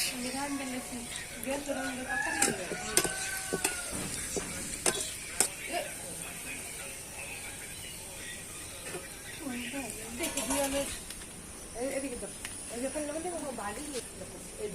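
Onions frying in a pan for home-cooked khichuri, giving a steady, soft sizzle broken by stirring scrapes and clicks, with voices talking at times over the cooking.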